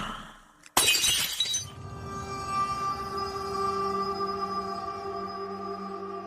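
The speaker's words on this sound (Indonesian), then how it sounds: "terdengar suara benda jatuh dan pecah." Something falls and glass shatters in one loud, sudden crash. Bright fragments scatter for about a second, then a long ringing tone lingers and slowly fades inside a quiet room of an old house.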